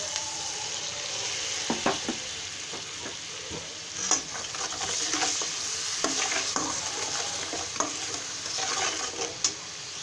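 Spice paste of chili powder, coriander powder, ginger and garlic paste with a splash of water sizzles in a pan for a rohu fish head curry, with steady frying hiss and repeated scraping stirs of a spoon, close and without speech.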